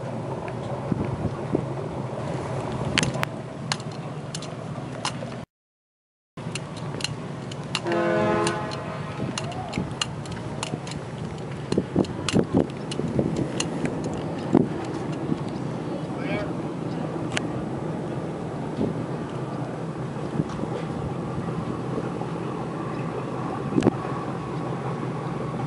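A Cruisers 3375 Express motor boat with a new port engine runs steadily on open water, its low engine drone mixed with wind buffeting the microphone and scattered ticks and knocks, with a brief dropout partway through.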